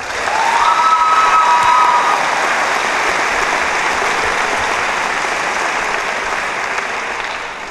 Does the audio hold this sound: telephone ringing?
no